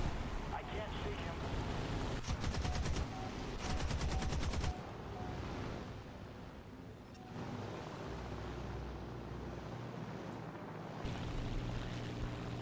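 Aircraft cannon fire from an A6M2 Zero fighter and its Hispano cannon in a War Thunder dogfight, loud rapid bursts over a constant engine drone, with gaps of steady hum between volleys.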